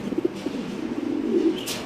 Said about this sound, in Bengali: খুব সুন্দর এক জোড়া কবুতর আপনি দেখতে পাচ্ছেন